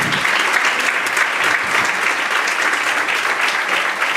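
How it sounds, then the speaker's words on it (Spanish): Audience applause at a lecture about photography and the visual heritage of Algeciras, a dense steady burst of many hands clapping that carries on for several seconds with no talk over it. "un aplauso para ti."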